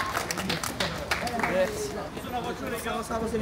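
Audience clapping for the winner of a streetwear and luxury treasure hunt, a scattered ragged patter of hands under busy crowd chatter and overlapping voices.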